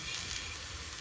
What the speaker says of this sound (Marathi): असं तेल लावायचं आणि छान शॅलो फ्राय करून घ्यायचे.